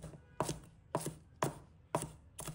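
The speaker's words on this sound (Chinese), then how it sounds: "再准备几个芹菜，把它切成小粒。" A knife chops celery into small pieces on a board, five sharp, evenly spaced knocks about half a second apart, close and isolated.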